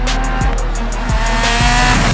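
A rally car in the video game Assetto Corsa Rally drives with a loud, steady engine drone, with short tire squeals cutting in several times.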